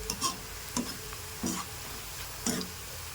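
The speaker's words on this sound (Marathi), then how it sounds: "हे पहा अशा पद्धतीने आपला कांदा तळत आहे" Onions frying in a pan for chicken dum biryani, a steady sizzle broken by four or five scraping stirs of the spatula at roughly even intervals, fairly quiet.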